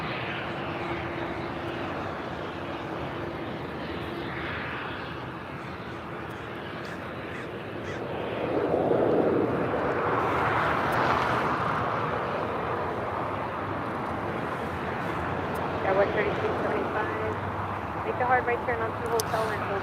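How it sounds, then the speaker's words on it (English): A Philippine Airlines Boeing 777-300ER departing LAX for Manila, its engine roar swelling from a steady background rumble to a louder broad wash midway, with crows cawing and people talking nearby. "This is Philippine Airlines 113 taking off to Manila on a 777 300"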